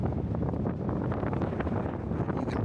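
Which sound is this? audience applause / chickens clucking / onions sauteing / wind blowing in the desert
wind blowing in the desert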